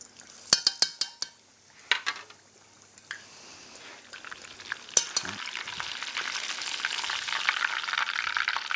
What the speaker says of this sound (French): nous allons pouvoir procéder à la cuisson du poisson, donc dans une friteuse chauffée à 170 degrés